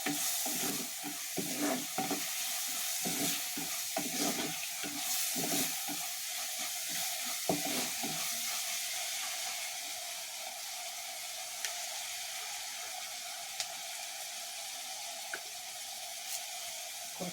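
Onions fry in a pan with salt while a spoon stirs through them, giving a bright, steady sizzle. Scraping and clattering strokes come thick in the first half, then ease to a quieter hiss with a few sharp clicks.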